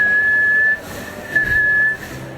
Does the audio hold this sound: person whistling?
yes